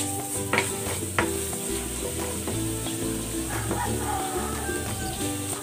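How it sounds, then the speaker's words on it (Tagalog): Garlic sizzles in hot cooking oil in a pan for a pork belly dish, a steady close frying hiss broken by a few clinks and stirring sounds, with a dog yipping faintly in the background. "Maglagay tayo ng cooking oil. Lagay natin tong bawang."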